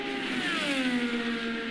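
An IndyCar race car at full throttle during Indy 500 qualifying, a steady high-pitched engine scream held flat out, loud and continuous with a slight pitch drop.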